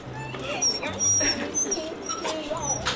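A dachshund, cramped in a travel box that is too short for it at an animal airport, whimpers in a string of high, thin whines and yips, fairly close, with faint background noise.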